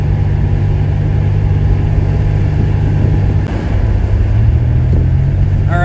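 A junkyard Buick Grand National, running with its check engine light on, drones steadily and loudly from inside the cabin while driving, with a constant low engine hum and a slight rise in pitch near the end.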